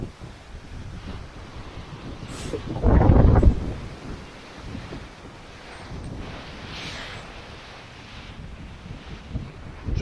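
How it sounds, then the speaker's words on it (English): Strong squall wind of 27-30 knots at sea during a single-handed transatlantic sailing crossing, a steady roaring rush with microphone buffeting, a loud gust burst near the start, and faint surf beneath. "There is a good 27-30 knots of wind."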